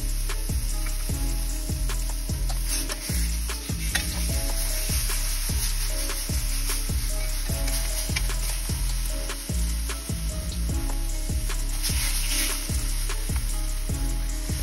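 A New York strip steak sizzles loudly while searing in a pan, with a continuous frying hiss broken by regular bumps and scrapes as the meat is moved around. No voices.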